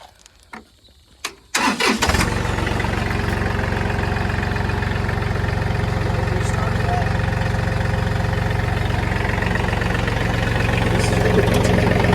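A John Deere 3032e compact tractor's diesel engine cranks briefly after a few clicks, catches and settles into a loud, steady idle close by, running evenly for around ten seconds with a faint voice at the start.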